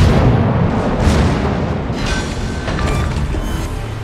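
Enemy cruiser blowing up in a naval warship game: a dense, sustained rumble of explosions and booming blasts, loud and continuous for several seconds, with no voices.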